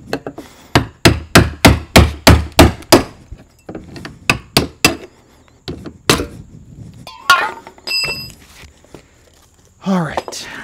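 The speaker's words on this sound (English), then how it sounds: "I'm going to use a brass hammer and a brass drift" A brass hammer strikes a brass drift while working the fuel pump ring on a GM 2.2L Ecotec in a Chevy Cavalier or Pontiac Sunfire. About ten quick, sharp metallic blows come in steady rhythm, then slower scattered taps, with a voice near the end.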